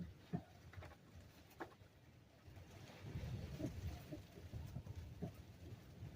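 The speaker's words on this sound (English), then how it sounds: "It's raining." Steady rain patters outdoors at night on a rural property, a faint, even wash of drops with a few brief louder taps, heard alone without talk.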